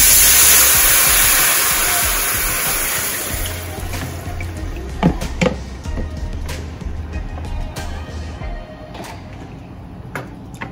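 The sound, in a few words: water being poured into a hot pan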